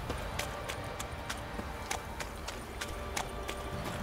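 Horse hooves galloping in the video game Witcher 3: a steady, rhythmic clip-clop of sharp hoof strikes at moderate volume over a low background bed.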